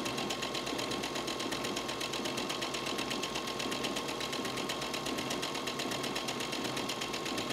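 Sewing machine back-stitching and then stitching a fabric table runner, a steady fast mechanical whir with rapid needle ticking running continuously and evenly at close range, with no voices.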